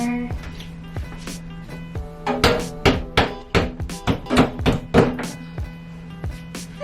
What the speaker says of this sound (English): Need a hammer.